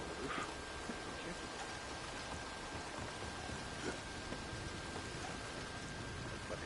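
Rain falls steadily in the video game Red Dead Online, a dense, even patter of drops across the whole stretch with a faint steady tone and occasional brief louder splashes.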